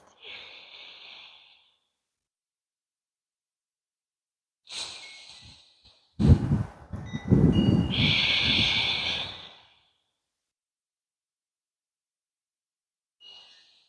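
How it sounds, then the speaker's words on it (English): Slow, deep breathing during a gentle beginner yoga session, with several long, airy inhales and exhales separated by quiet pauses, close and clear. "Sending your inhale all the way down to both of your lungs before a complete exhale"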